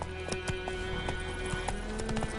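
Horse hooves clip-clopping at a gallop in Witcher 3, a quick steady rhythm of close, clear hoof strikes over a constant game ambience, with a brief whinny.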